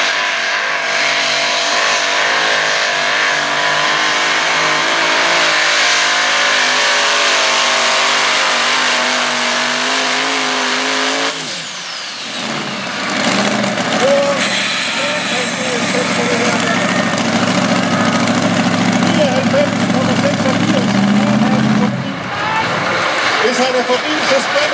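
Tractor-pulling machines at a competition in Denmark, with powerful engines roaring and revving, loud and sustained, shifting in pitch and character partway through as one run gives way to another.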